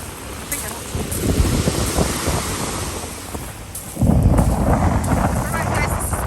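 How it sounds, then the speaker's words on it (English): Strong wind buffets the microphone over crashing waves at a beach park by the sea, a loud, continuous roar that surges heavier about two-thirds of the way through. "It's kind of very windy and a bit noisy."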